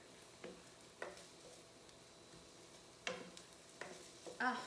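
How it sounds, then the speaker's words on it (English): Quiet, soft sizzling of onions in a pan, broken by a few scraping stirs and light clinks of a utensil, no talking. "I'm going to tell you what the rest of my ingredients are while I'm sizzling away right here"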